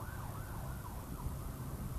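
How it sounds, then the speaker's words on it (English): An ambulance siren wails continuously as the vehicle passes nearby on the street, mixed with road and traffic noise, with no talking. "there goes an ambulance."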